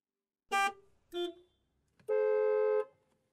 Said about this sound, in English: the sound of traffic from outside.